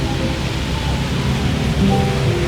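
Steady rain pours in a dense, even hiss with a low rumble of thunder rolling beneath it, loud and continuous with no voices.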